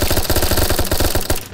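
A fast, loud burst of automatic gunfire from the video game Unturned rattles in an even rhythm of rapid shots, close and dominant, ending abruptly.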